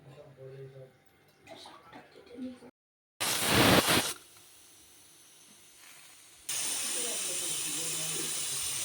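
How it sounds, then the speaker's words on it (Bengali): Pressure cooker of mutton curry letting out loud hissing steam bursts, a short strong blast followed by a longer steady hiss, with talk and kitchen clatter just before. "কটা সিটি দিতে হবে প্রেশার কুকারে"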